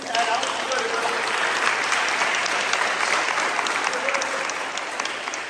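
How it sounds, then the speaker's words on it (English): Sustained audience applause fills a sports awards banquet hall, steady and dense throughout, with a few faint voices and cheers woven in. "big round of applause for Will Smith"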